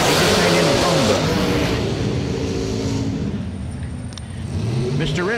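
A drag racing car at a bracket race roars loudly past, its engine note falling away into the distance, with a track announcer talking over it.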